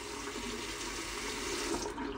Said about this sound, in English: turn on your sink, put your toothbrush head, whether it's manual or electric, underneath the sink to get it a little bit wet